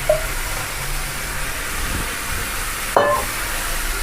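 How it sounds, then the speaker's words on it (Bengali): Potatoes frying and being stirred in a pan for a village-style fish curry with data greens, a steady soft sizzle with a brief scrape or clatter of stirring near the end. "আর আলুটা এই যে ভালো করে কষায় নিন।"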